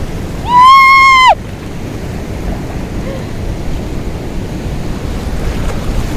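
Steady surf rolls in at Murud Beach in Dapoli on the Konkan coast, a continuous broadband wash of waves and wind, with a brief bright tonal squeal near the start.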